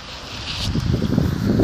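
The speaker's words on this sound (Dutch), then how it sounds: "Het waait nou niet heel erg hard, maar je hoort het wapperen. En het dak beweegt mee met de wind." Wind flapping a fabric canopy roof over an outdoor area on a moderately breezy day, giving a steady rushing bluster with irregular soft fluttering that grows slightly louder, no voices.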